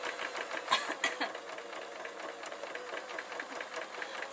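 A sewing machine top stitching fabric along one side of a flap on a crayon and colouring pad case, its fast, steady needle rhythm running quietly and close with slight irregular bumps.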